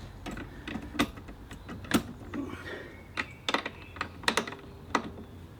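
A Givi Trekker motorcycle pannier case being handled and locked, a series of sharp, close plastic and metal clicks and taps coming in irregular bursts with no speech.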